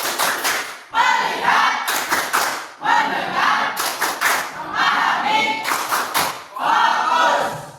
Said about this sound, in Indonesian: Ya, sekali lagi untuk tepuk fokus ya.